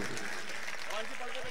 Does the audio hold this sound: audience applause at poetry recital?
yes